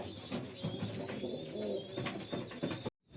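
A full black Jack pigeon coos softly and repeatedly in rhythmic low calls, heard close up amid faint background noise, with no talk.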